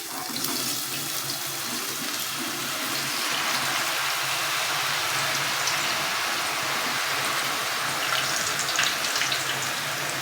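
Fries sizzle in hot oil inside a fryer machine, a dense, steady crackling hiss that stays loud and continuous throughout, close up with no talking.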